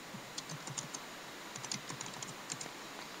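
Keys on a computer keyboard clatter in quick, uneven bursts of light clicks, close and fairly quiet with no voices.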